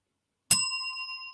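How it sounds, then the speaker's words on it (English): A single bright bell strikes after a brief silence, its clear metallic ring sustaining and slowly fading. "we'll give you a bell for letting us know it was 74"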